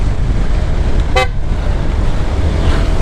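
A single short horn honk over the steady rumble of an engine and road noise.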